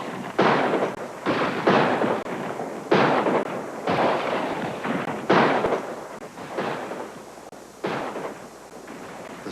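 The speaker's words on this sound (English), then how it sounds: "The sound of gunshot echoed for miles down the valley." A series of sharp bursts of gunfire, each followed by a long rolling echo that decays slowly, repeating about a dozen times.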